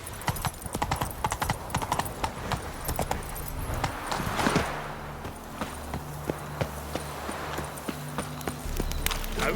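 Galloping horse hooves in The Witcher 3, a steady, fast clip-clop rhythm running throughout at moderate loudness, with game music and ambient noise behind it and a brief whinny-like sound near the middle.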